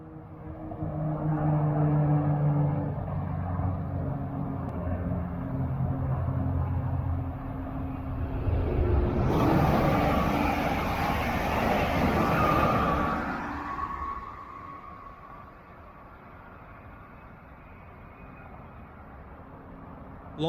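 A bright green Brightline eastbound passenger train passes up close on the Orlando line, a loud rumble building to a sharp rushing peak mid-pass and then fading as it recedes.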